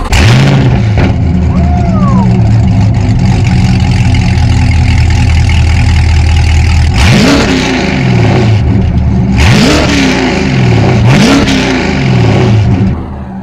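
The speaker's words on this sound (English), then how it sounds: "So this is the Corsa with long tubes and cat deletes." A Corvette C8 with Corsa exhaust, long-tube headers and deleted catalytic converters barks through several sharp, loud revs, rising and falling between a throaty idle, close up.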